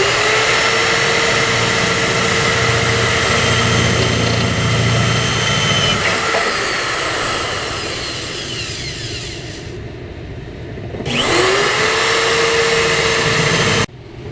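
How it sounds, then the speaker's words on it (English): A drill bores holes into the side of a truck bed while an auxiliary fuel tank is mounted, giving a loud, steady whine that eases off partway through, drops briefly and then resumes. "We're also going to drill 2 1/4 inch holes into the side of the bed."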